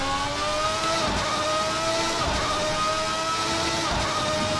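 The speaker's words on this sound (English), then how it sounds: "Beautiful acceleration sounds out of that V12." A Formula V12 race car in Assetto Corsa revs hard through its gears, the loud high-pitched V12 wail rising in repeated sweeps with brief dips at each shift, continuous and close with no talk.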